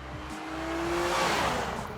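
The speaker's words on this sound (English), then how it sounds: "the throttle response is nice and punchy, and the exhaust note is phenomenal" A 2017 Jaguar F-Pace SUV pulls away with a rising exhaust note, a steady engine tone climbing in pitch and volume as it accelerates, loud and close for two seconds.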